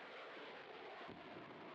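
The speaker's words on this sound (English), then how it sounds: "I hear a jet. I think that's got to be ours." Jet flying overhead in a Battlefield multiplayer match, a faint steady broadband roar that swells slightly at the middle and holds without a break through the whole short stretch.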